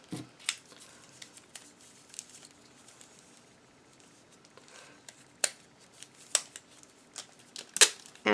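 Sharp, scattered snips of scissors trimming pieces of material, close and fairly quiet, coming in irregular bursts with brief rustling between cuts and no talking.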